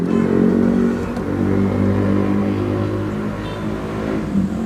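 A 2009 Nissan Serena Highway Star engine turning over and rumbling close by, with a steady low drone and slight revving, no talking.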